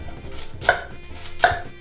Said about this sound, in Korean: 이제 배를 토막 내주시고요.